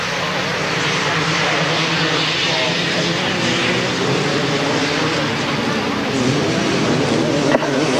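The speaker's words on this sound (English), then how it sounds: "Very close indeed, those bikes as they come round there." Grasstrack motorcycles racing round a grass circuit, a loud continuous engine roar from several bikes close by, with a commentator talking over it.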